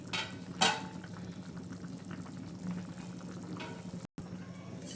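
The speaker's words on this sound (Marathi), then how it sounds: "हे बघा चिकन कसं गदा गदा शिजवते" Chicken curry simmers and bubbles steadily in a pan, a soft continuous sizzle with a brief louder burst near the start.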